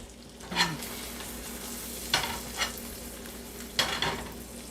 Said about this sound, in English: Oh yes, herbs are browning up nice.